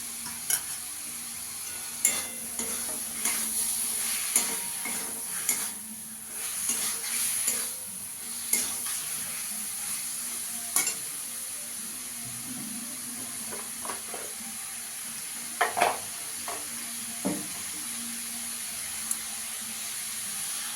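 Cauliflower sizzles steadily in a hot pan with spiced masala while a spatula scrapes and stirs it in irregular bursts, the frying hiss constant underneath.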